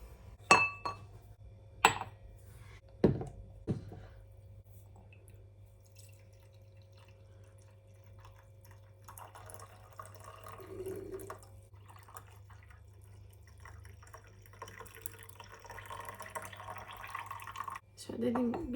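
Glassware clinks and taps in a kitchen while winter tea is prepared, with a few sharp, close clinks early, faint drips and handling sounds after them, and a voice talking quietly at times.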